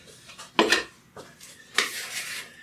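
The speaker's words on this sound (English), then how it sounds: "I want to dredge the meat. So basically, mix it around with the flour and salt." Chunks of beef tossed and rubbed in a dish of flour and salt, giving three or four distinct scraping, rustling bursts separated by quieter shuffling, close up with no talking.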